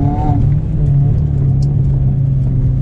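Maruti Suzuki Swift engine humming steadily from inside the car on a test drive, a constant low drone with a brief tonal whine at the start.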